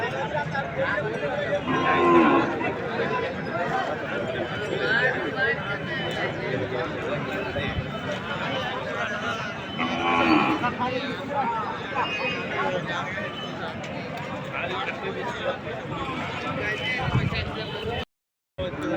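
Cattle lowing at a bull market in Jogulamba Gadwal, with steady crowd chatter and voices of a busy livestock fair throughout, and several distinct moos rising above the noise.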